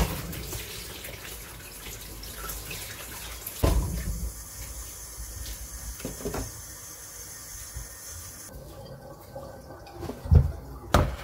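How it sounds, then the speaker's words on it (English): Kitchen tap water running over vegetables being washed before peeling and chopping, a steady low splashing stream with a few louder knocks and drips near the end. "So I'm just going to wash my vegetables before I peel and chop them."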